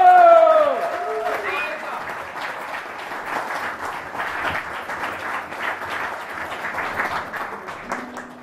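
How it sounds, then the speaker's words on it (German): Audience at a live gig applauds for a violinist friend, a busy, sustained patter of clapping heard after a voice speaks at the start, continuing steadily to the end. "dass wir alle mal klatschen für meinen Freund Pavel."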